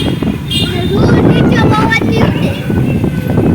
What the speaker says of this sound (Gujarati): એકદમ પવન છે